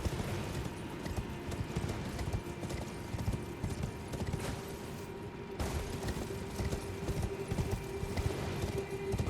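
A horse gallops in the video game Elden Ring through the Siofra Aqueduct, its hooves clopping in a steady, close rhythm with occasional snorts and mechanical clanks, with no talk over it.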